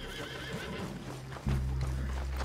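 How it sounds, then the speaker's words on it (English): A horse in the video game Red Dead Redemption gives a loud whinny, with hoofbeats clopping beneath it, heard clearly and close over steady background game ambience. "Where's the horse? She ran away."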